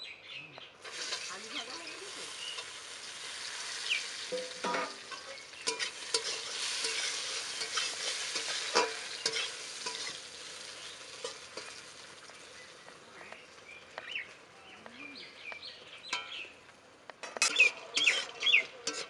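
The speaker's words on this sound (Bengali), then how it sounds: "এই তেলে এবার বড়িটা ভেজে নেব" Lentil dumplings coated in salt and turmeric fry in hot oil with a steady sizzle and crackle, broken by occasional stirring scrapes; a bird chirps faintly near the end.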